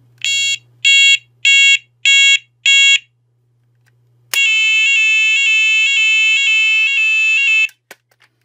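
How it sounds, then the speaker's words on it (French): An ARKEON type 4 battery-powered fire alarm siren sounds close and loud, first five evenly spaced shrill beeps, then a pause, then a sustained piercing warbling tone that cuts off abruptly with a couple of small clicks. "Le mode essai, il est moins fort, la sirène."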